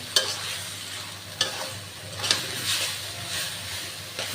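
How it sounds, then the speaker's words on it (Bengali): Dried fish (shutki) being stirred in a sizzling cooking pan, with a few sharp scraping strokes standing out over a steady, close frying hiss, no voices. "এখন আমি এগুলো নাড়াচাড়া করে নেড়ে নেব।"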